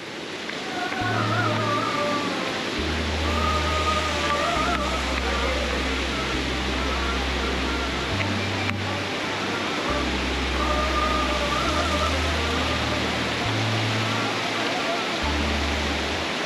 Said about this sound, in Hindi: यहाँ तो पानी दरिया में जा रहा है।